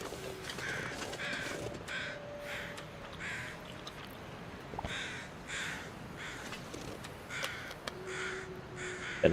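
Crows cawing in the wilderness survival game The Long Dark, a series of harsh caws repeated at irregular intervals over a quiet ambient background, moderately distant, with no talk.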